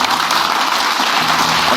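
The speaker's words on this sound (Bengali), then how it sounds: "সৌভিক চক্রবর্তীর জন্য একটু জোরে হাততালি হবে" A studio audience at the Mirakkel 9 comedy stage show applauds performer Souvik Chakraborty with dense, loud, continuous clapping that fills the room without a break.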